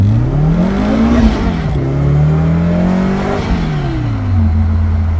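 A supercharged Toyota AE86 engine, a 7AGZE swap, revs up and down close by, pitch rising and falling as it accelerates and eases off through a turn.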